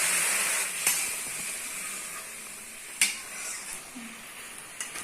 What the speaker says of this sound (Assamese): মছলাখিনি ভাজি লৈ